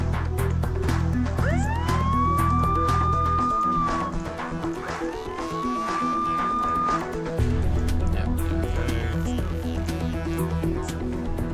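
A police car siren in the Emergency 4 video game wails in two long rising-and-holding tones over a dense, loud bed of engine and game noise that drops away briefly between them.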